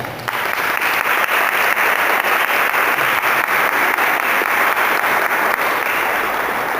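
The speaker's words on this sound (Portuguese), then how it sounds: "Eu convido você a aplaudir esta palavra." A church congregation applauds after a Bible reading from the prophet Isaiah, a loud, dense, sustained wash of clapping that starts abruptly and holds steady throughout with no speech over it.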